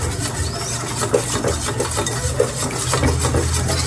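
Cornstarch mixture being stirred, likely with a spoon or utensil scraping against a bowl, making a steady clinking, scraping rhythm with a few sharper taps, fairly close and alone.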